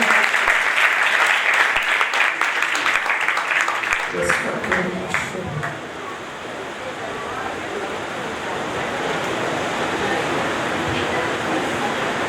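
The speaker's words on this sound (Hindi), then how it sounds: "आप सबकी भरपूर ताली में बहन फरीदा।" A church congregation at an Assemblies of God anniversary gathering in Karachi applauds loudly for several seconds, then the clapping thins into a broad, washy crowd noise that lingers.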